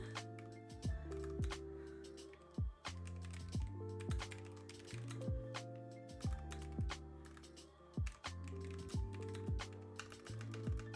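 Typing on a computer keyboard during an art stream: quiet, steady clusters of key clicks with brief pauses between bursts, close up and faint, with no talking.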